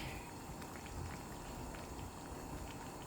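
A pot of vegetable soup with tomato bubbles at a steady boil, a continuous dense wash of small pops and gurgles close by, with no voices over it.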